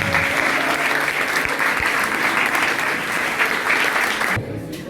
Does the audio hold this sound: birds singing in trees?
no